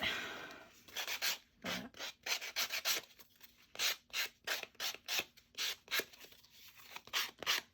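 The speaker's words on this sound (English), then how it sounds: "I'm just using my sanding block to kind of even out the ends" Repeated rasping strokes of a sanding block rubbed back and forth against the edges of playing cards, quick rhythmic scrapes with brief gaps between them, close up.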